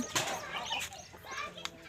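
A long-tailed hen clucks nearby in short, quick bursts, with a few sharper calls over a faint background.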